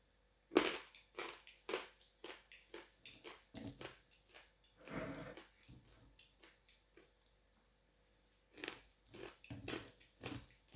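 Dried chalk is bitten and crunched up close: sharp, brittle snaps followed by gritty chewing, irregular and fairly quiet, with pauses between bites and no talking.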